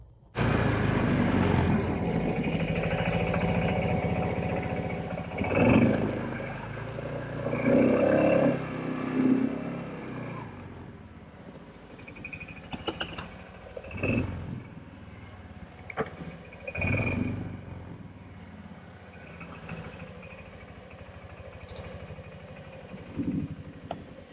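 A Kawasaki Prairie 360 ATV engine runs nearby on a trail, a steady rough idle broken by several throttle blips and revs, heard alone without voices.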